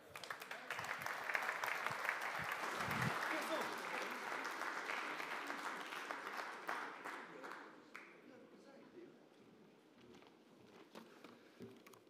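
A large conference audience applauds Xavier Bettel with steady, dense clapping that swells early, then gradually thins and fades toward the end, with faint voices and shuffling beneath.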